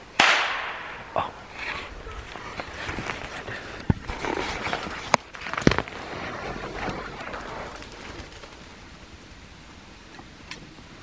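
A single sharp gunshot cracks out near the start during a forest grouse hunt, followed by quieter outdoor rustling, scattered clicks and movement.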